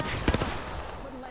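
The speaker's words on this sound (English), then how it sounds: "I'm spotted, taking fire." Video game gunfire, a quick burst of three or four sharp shots close together, then fading into quiet background noise.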